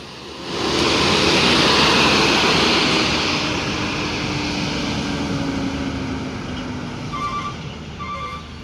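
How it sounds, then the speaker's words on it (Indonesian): A truck at a bus terminal in Muara Bungo lets out a loud, close air-brake hiss that swells in the first seconds and then settles into a long steady rush over an idling engine rumble, with faint horn-like tones near the end. "Ciri khas rem truk."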